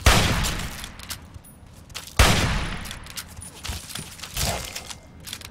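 Rapid bursts of gunfire in Fallout 3 crack out in two loud volleys followed by scattered shots and clatter, with no talking.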